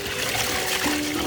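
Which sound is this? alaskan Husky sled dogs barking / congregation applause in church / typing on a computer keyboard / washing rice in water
washing rice in water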